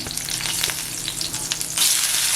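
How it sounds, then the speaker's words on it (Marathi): Onion frying in a little oil in a hot kadhai, a steady close sizzle that grows brighter and louder toward the end, with no voices. "आपण कढई गरम करायला ठेवले त्याच्यात आहे ना थोडं तेल टाकते तर त्याच्यात कांदा टाकते"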